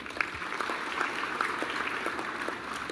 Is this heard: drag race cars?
no